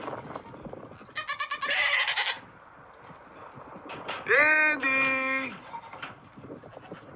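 A farm goat gives a loud, wavering bleat up close, following a person calling out and some rapid pulsing animal noise just before.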